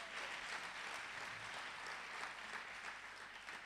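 A church congregation clapping hands, a steady, dense wash of applause that stays even and fairly distant throughout, with no voices over it.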